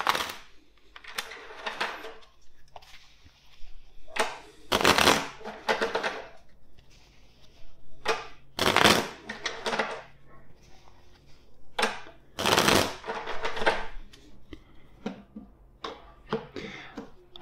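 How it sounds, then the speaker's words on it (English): A deck of tarot cards is shuffled by hand in repeated bursts of riffling and flicking, with quieter handling sounds in the pauses between. "let's shuffle first the deck four times"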